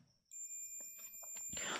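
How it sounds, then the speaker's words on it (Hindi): A multimeter gives a steady continuity beep while probing transformer pins for a small DIY high-voltage circuit. After a short silence, a continuous high-pitched tone holds, with faint handling clicks beneath it. "बीप की आवाज़ आ रही है पहले और दूसरे नंबर पिन के साथ"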